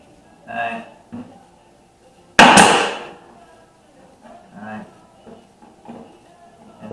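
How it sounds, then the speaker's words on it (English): A brad nailer drives a 3/4 inch nail into an antique cedar chest with one sharp, loud snap, while someone talks before and after it. "So I'm using a brad nail again, but this time I loaded 3/4 inch"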